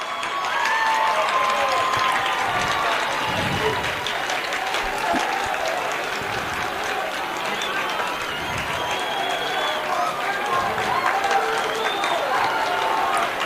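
A Lehi crowd at a high school 6A baseball semifinal cheers and applauds steadily and loudly throughout, a dense sustained roar of clapping with a commentator talking over it.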